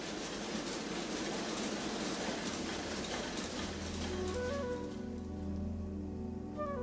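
Leavers lace machine with carriages and bobbins, its working parts lubricated with fine graphite powder, running steadily with a dense, continuous mechanical clatter and rattling that holds throughout and eases into a humming drone toward the end.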